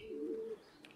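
A soft low coo from a racing pigeon near the loft as birds arrive home, one brief murmuring call followed by faint ticks, quiet and close in an otherwise still setting.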